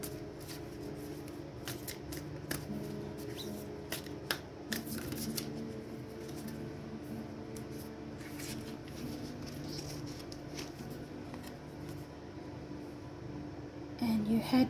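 Sacred Traveller oracle cards are shuffled in a steady, soft riffling rustle close to the microphone, continuing for several seconds with faint slaps and light handling, over a low background hum.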